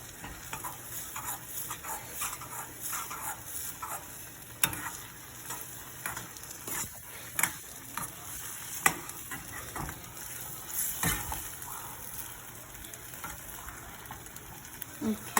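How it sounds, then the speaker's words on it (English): Kadai Prasad, a sweet Indian pudding, is stirred in a pan: a low, steady sizzle runs under repeated scrapes and soft clicks of a spoon against the metal. "So now we're just gonna continue mixing it still though."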